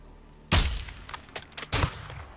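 Sniper rifle fire in Modern Warfare 2: two loud, sharp gunshot blasts about a second apart, with brief clattering mechanical clicks of the bolt action between them.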